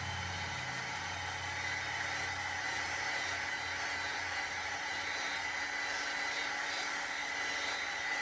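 A heat tool blows a steady, loud whirring hiss while drying embossing, running close and unbroken throughout.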